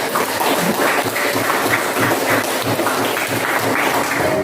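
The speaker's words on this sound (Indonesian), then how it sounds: "Tepuk tangan buat Agus bisa menyimpulkan" Classroom applause breaks out, a dense burst of many hands clapping close by that carries on steadily for several seconds without talk over it.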